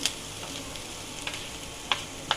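Kundri frying in a pan as turmeric and salt go in: a steady sizzle runs throughout, broken by a few sharp scraping stirs near the end, with no talking.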